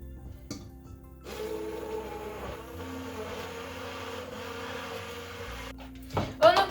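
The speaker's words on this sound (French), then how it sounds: "je mets un petit peu de lait et je vais mixer tout ça" A kitchen blender whirs steadily for several seconds while mixing milk into a drink, its motor hum starting abruptly and cutting off near the end, followed by brief clunks.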